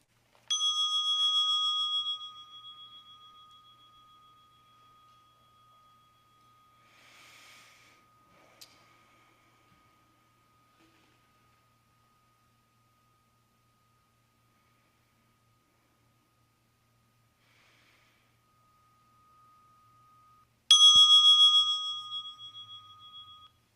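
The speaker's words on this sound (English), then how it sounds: "I'm going to ring the bell now." A single bell is struck twice, each strike a clear bright ring that decays slowly into a long quiet stretch, the two strikes about twenty seconds apart in a hushed room.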